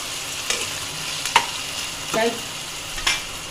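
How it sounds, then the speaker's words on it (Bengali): Potatoes are fried and stirred in a pan, giving a constant sizzle with a few clattering stirring strokes spaced about a second apart, close and moderately loud, with no talk. "আলুগুলো একটু নাড়াচাড়া করবো, একটু ভাজা ভাজা হবে আর কি, একটু ভাজার জন্য আমি ফ্রাই করছি"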